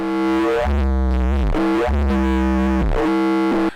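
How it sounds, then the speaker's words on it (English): Heavily distorted synthesizer tone pitched at C2, a thick buzzing bass with dense harmonics that loudly sustains and swoops in pitch across several phrases, with no talking. "Let's add a lot of distortion. Set this to C2."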